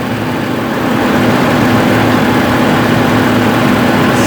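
A 2015-2024 Nissan Murano engine runs at idle during a CVT transmission fluid check, giving a loud, steady, unbroken low hum with constant broadband noise and no speech.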